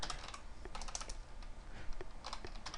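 Fingers type C# code on a computer keyboard, producing quick, uneven clusters of soft key clicks close by, with no voices over them.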